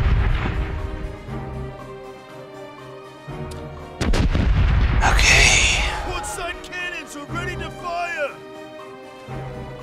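Ship cannons fire in a naval video game battle, with deep booming blasts landing close and loud, followed by scattered crashes and debris sounds while voices speak over the action.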